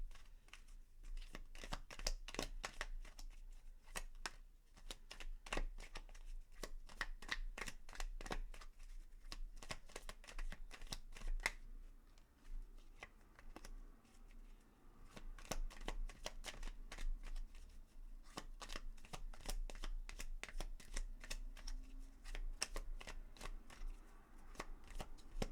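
Tarot cards being shuffled close up in a quiet room, a continuous soft run of riffling and flicking card edges with brief pauses, faint and without voices.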